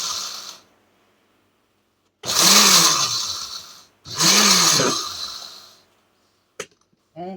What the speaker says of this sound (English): And it helps to plug in your blender